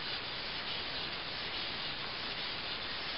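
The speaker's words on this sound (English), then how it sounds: "lap it on that stone for a couple of hundred times" A Bearcat chipper blade is lapped back and forth on a sharpening stone, a continuous close, faint abrasive rubbing hiss with no pauses.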